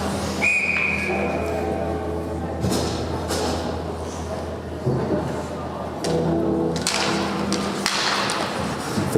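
A referee's whistle blows at an ice hockey game, a sharp short shrill blast over rink noise, stick and puck thuds and a commentator talking throughout.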